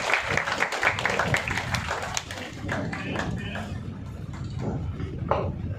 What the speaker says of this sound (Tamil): அனைவரும் கைத்தட்டலாம்.